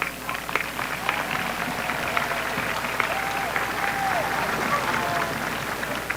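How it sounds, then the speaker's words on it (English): Graduates at a 2021 high school graduation ceremony give a sustained round of applause for their parents, steady dense clapping throughout with voices and a few whoops mixed in. "I would like to ask our graduates once again to give your parents a round of applause."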